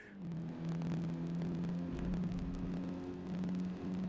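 Car engine in Forza Motorsport racing game, revving with a deep, buzzy bass tone; a sustained low hum that swells and eases in steady waves, close and loud with no talk.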